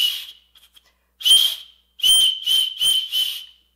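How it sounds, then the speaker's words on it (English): A tiny whistle built into an emergency survival bracelet is blown close up: one faint short toot, a longer shrill blast, then three more sharp blasts in quick succession. "let's try the little whistle here on our emergency bracelet"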